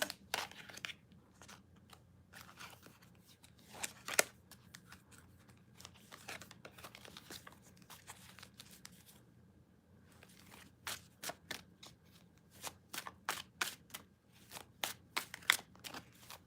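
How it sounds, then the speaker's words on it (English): Tarot cards being shuffled over and over, with rapid riffling bursts and soft flicks, quiet and close, broken by brief pauses. "This is like the longest shuffling ever."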